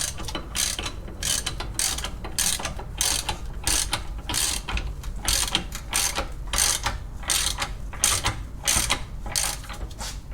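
Socket ratchet wrench clicking steadily while turning on a trailing arm bushing of a Toyota Sienna, a close, loud run of rapid ratcheting bursts with brief pauses between strokes, no talking.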